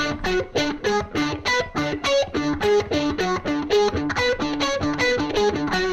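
Distorted electric guitar picks a fast, even pedal-tone pattern, a steady low D on the bottom alternating with shifting higher notes in a driving rhythm.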